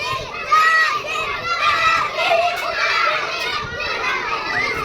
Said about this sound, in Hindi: चिल्ला रही है।